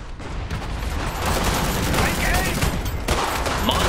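Dense, continuous volleys of small-arms and machine-gun fire from an Iron Harvest multiplayer battle, loud and unbroken throughout, with battlefield rumble and a few sharp louder bursts.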